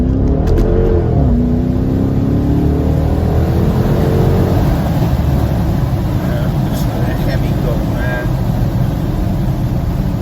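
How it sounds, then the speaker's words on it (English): A Hemi V8 car engine revving loud and close, a rising roar that settles into a steady heavy drone with broadband rumble and some background voices. "Listen to that Hemi go."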